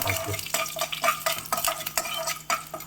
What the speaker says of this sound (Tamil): இப்போ இது நல்லா வறுபடணுமா ஆமா சிவக்கணும் சிவக்க வறுக்கணும் என்னது இது கருவேப்பிலை போட்டிருக்கேன்